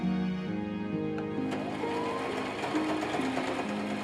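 A sewing machine stitches fabric as its pedal is pressed slowly, a steady close mechanical whir whose pitch shifts as the speed changes, running continuously with no talk.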